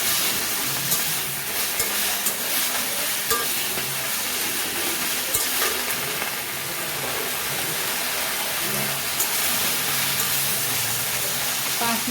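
Salted leafy greens are stirred in a hot pan, giving a steady, dense sizzle and hiss that runs continuously at moderate level with faint stirring movement underneath.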